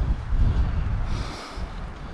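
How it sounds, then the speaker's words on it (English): Strong gusts buffet a camera microphone outdoors at a hilltop campsite, a heavy, rumbling low roar that swells and dips continuously for the whole stretch, with no voices. "I got to have it on the camera today because it's so windy"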